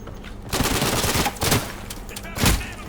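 Rapid bursts of rifle and machine-gun fire in the video game Day of Infamy, several loud overlapping volleys crackling over a continuous battlefield din.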